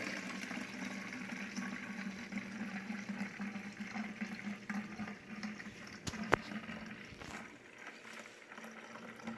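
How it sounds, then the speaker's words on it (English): Water runs steadily into a bottle holding dish soap for a homemade granite counter cleaner, a continuous rushing pour with faint clinks near the end and no talking. "you're going to fill with water the rest of the way"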